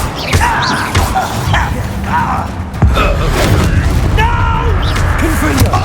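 A Confringo fire spell goes off in Hogwarts Legacy as a punchy boom near the middle, set among other spell effects and bursts while a voice speaks over the combat.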